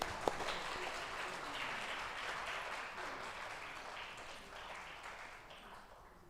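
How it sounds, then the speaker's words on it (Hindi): An audience at a transgender awards ceremony claps together in sustained applause, a dense crackling wash of many hands that holds steady and tapers slightly, heard faintly from a distance. "तालियां जोर से बजाइए"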